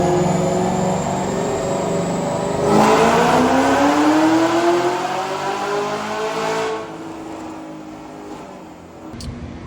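A Camaro ZL1 with headers revs on a dyno pull, a loud engine climbing steadily in pitch through the run before easing off and fading toward the end.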